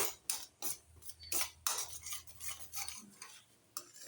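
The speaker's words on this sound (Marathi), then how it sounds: "जायफळ आणि सुंठ वेलचीची पावडर बनवून ठेवलेली टाकून घेऊ. ती छान आता मिक्स करू." A thick mango barfi mixture with nutmeg and dry ginger-cardamom powder is stirred in a pot, giving scattered close scrapes and clinks from the spoon against the pan over a quiet background.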